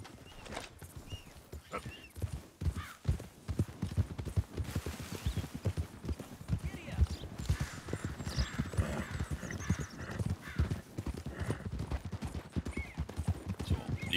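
Horse hooves clip-clop steadily through the Red Dead Redemption 2 video game, with a whinny or two amid the rhythmic hoof beats and some background ambience.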